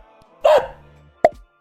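Two short, close dog barks, a louder first bark followed after a pause by a sharper second one, with no other sound around them.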